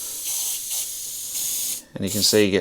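An Iwata HP.TH spray gun sprays paint in a round fan pattern, giving a steady airy hiss in bursts for almost two seconds, then a voice talks over the last part.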